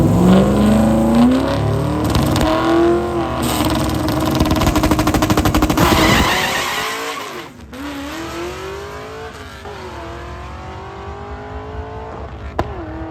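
A Volvo stick-shift drag car with a 180-degree header launches off the line, its engine blaring in a loud, rapid crackling roar as the tires spin, then the tone drops and drones on steadily at a distance.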